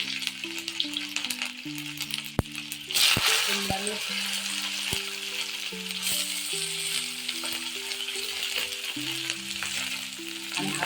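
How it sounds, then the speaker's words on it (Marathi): Garlic and ginger crackle in hot oil for cauliflower Manchurian, a loud, continuous sizzle with scraping stirs and sharp utensil ticks, while people talk over it. "तेल पहिलंच आहे ऑलरेडी तर पहिला टाकू लसूण लसूण टाकलं टाकूया अद्रक"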